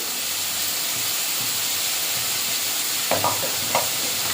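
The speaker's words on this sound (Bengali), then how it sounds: "লঙ্কার গুঁড়ো দিয়ে মশলাটা ভালো করে কষে নেবো" Spice paste of cumin, coriander, mustard and turmeric frying in oil for a mustard fish curry, a steady loud sizzle and hiss close by, with a couple of brief scraping stirs near the end.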